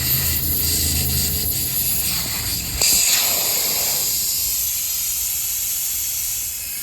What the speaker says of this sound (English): Once you hear air, it's going to eventually release and allow all of the air to come out faster.